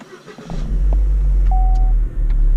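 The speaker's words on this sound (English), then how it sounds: "Car starts." A Holden Cruze engine cranks on a push-button start and catches, settling into a steady, loud idle rumble up close, with a brief chime near the start.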